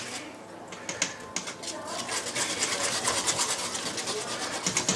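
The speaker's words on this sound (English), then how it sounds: "I'm pulling it off the fire. I'm going to keep whisking it." A whisk scraping rapidly against a pot as a seafood pot pie sauce thickens off the heat, a quick ticking, rasping rhythm that grows slightly louder, close but fairly quiet.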